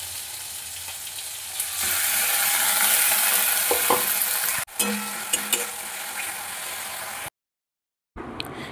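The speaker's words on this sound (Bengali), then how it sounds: "পেঁয়াজ আদা রসুনটা 2 মিনিট কষিয়ে নিয়েছি।" Onion, ginger and garlic paste sautés in a pan, giving a loud, steady sizzle with a few scraping stirs before a short silence and a brief return of sizzling.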